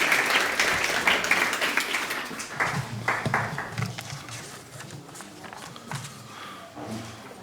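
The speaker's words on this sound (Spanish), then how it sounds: "Un aplauso." An audience claps at an informational breakfast event for International Childhood Cancer Day, a loud burst of applause at the start that gradually thins into scattered claps and fades, with a bit of shuffling toward the end.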